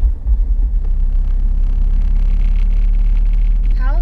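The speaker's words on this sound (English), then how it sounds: "Push the clutch in and push it back into first. Yep, let the clutch out." Lexus IS300 with a manual gearbox driving along, a steady low engine rumble and road noise holding loud throughout, with a brief bumpy surge at the start as the car pulls away after a gear change.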